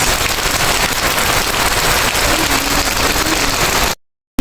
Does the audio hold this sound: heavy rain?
yes